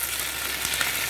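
Capsicum frying in hot oil in a kadai gives a steady, close sizzle with faint crackles throughout, with no talking.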